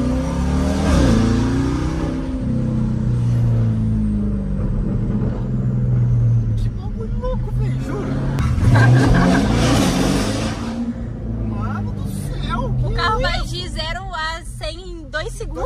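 A Corvette's engine revs loudly in repeated surging bursts, with a high-pitched, Formula 1-like wail that rises and falls over a steady rumble, while people talk over it throughout.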